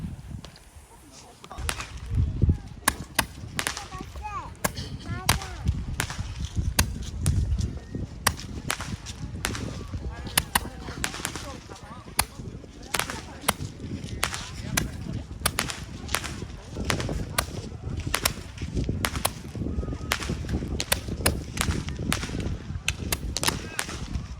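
Fireworks set off by a small group on a trip to Sokcho, a dense run of sharp cracks and pops going off in rapid bursts throughout, with people talking and laughing between the bangs.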